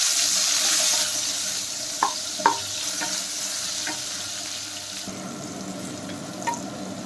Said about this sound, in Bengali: এখন আমি এর মধ্যে দিয়ে দিচ্ছি কুচনো পেঁয়াজ। পেঁয়াজটা হালকা ভেজে নেব।